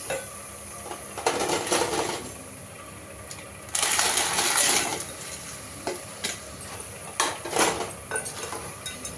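Crabs go into a masala in a pan and are stirred, with metallic scraping and clattering in short bursts and a soft sizzle underneath.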